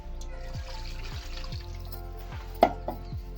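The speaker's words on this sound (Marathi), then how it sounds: "आपण पाणी टाकून चांगलं स्वच्छ धुवून घेणार आहे" Water poured over raw chicken to wash it in a village kitchen, a steady trickling and splashing stream with a few soft knocks and a sharp clatter near the end.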